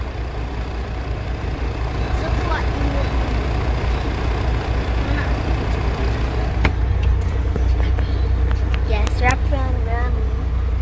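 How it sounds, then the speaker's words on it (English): A car engine hums under steady traffic noise near a flat bridge in St. Catherine, Jamaica, with people talking and calling out nearby and a few sharp high chirps toward the end. "I hear a car"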